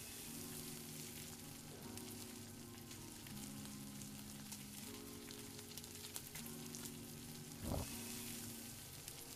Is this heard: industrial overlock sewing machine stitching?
no